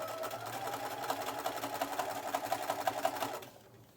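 Sewing machine running steadily while stitching a rolled hem without a special foot, a continuous close mechanical whir with rapid regular needle beats that stops near the end.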